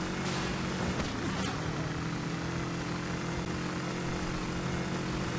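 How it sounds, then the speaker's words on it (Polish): A motorcycle engine in the video game Driver: Parallel Lines runs roughly and oddly, giving a continuous mechanical drone with steady tonal hum and no talk over it. "Motor gdzieś dziwnie zaczyna chodzić."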